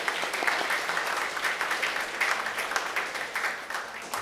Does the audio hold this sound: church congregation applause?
yes